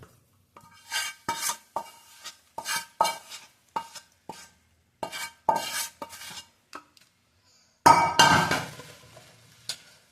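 A spoon scrapes and knocks around a pan while pickle with asafoetida and chili is stirred, heard as a series of separate close metallic scrapes and clinks with short pauses, ending in a louder scraping burst.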